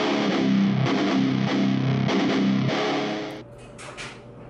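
Thick, layered distorted guitars chug through a few rhythmic chords before cutting off, leaving faint room noise and soft clicks.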